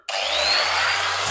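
An electric sander works across the ribbed metal floor of a VW T2 Baywindow under restoration, starting abruptly and holding a loud, steady, abrasive whir with a low motor hum for just over a second.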